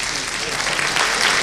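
Audience applause for a magic trick, used as an audiobook sound effect: a dense, steady wash of clapping that stays loud and even throughout the short moment.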